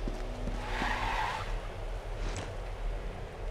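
An enemy vehicle skids in the combat shooter Modern Combat 3, a hissing tire squeal swelling in the first second and a half over a low rumble of engine and battle noise, then fading.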